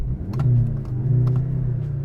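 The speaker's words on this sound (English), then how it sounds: "Sport mode makes the exhaust more aggressive. Listen." Deep, burbling exhaust of a 2024 Mercedes-Benz C63 AMG turbo four-cylinder in sport mode rumbles close by, swelling slightly as the engine revs, with a low throaty drone throughout.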